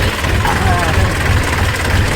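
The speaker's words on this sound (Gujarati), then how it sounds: "અને આપણું ટ્રેક્ટર ચાલુ છે" A tractor engine idling on a farm job, a steady low rumbling drone with a throbbing pulse, near and fairly loud throughout, with muffled voices underneath.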